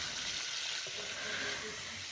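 Oil sizzles and crackles steadily in a pan frying fish intestines with onion, a close, fairly quiet frying hiss with faint stirring noises and no talking.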